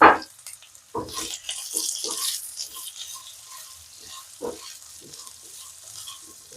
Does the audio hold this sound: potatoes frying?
yes